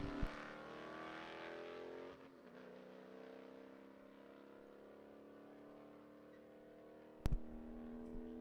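A 2012 Mustang and a Challenger launch off the line at a drag strip, a loud steady engine roar with layered harmonics that dips after two seconds, then a sharp bang near the end.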